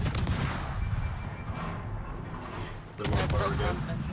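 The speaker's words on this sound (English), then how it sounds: "York is shooting." Heavy cruiser York's main guns firing in World of Warships: deep, booming artillery salvos rolling under continuous battle noise, with a fresh loud volley erupting near the end.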